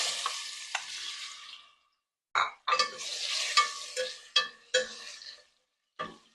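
Sliced plantain sizzles and spatters in hot ghee in a pan. Bursts of frying hiss are broken by brief quiet gaps and a few stirring clatters. The sound is close and moderately quiet.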